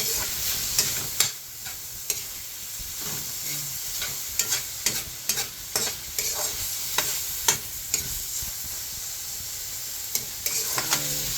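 Squash (kalabasa) cooks in a hot pan, a steady sizzle broken by repeated scraping clacks of a spatula stirring, moderately close, with no voices.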